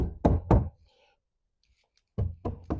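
A couple of sharp wooden knocks close by, then a pause and another burst of solid thunks, as a metal corner bracket is struck firmly into the wood of a planter box by hand.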